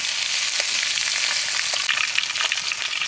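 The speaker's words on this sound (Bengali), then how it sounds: "তেলে ভাজা হয়ে গেছে" Fresh pond fish fries in hot oil in a village kitchen, a loud, close, continuous sizzle and crackle with no voices.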